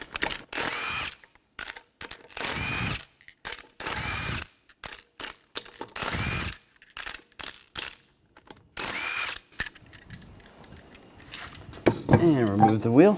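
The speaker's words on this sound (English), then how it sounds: "We're going to remove the lug nuts," Lug nuts come off a 2013-2019 Ford Escape front wheel with a 19mm socket and power tool, sounding as five loud, buzzing bursts separated by short pauses and small clicks, with a voice talking near the end.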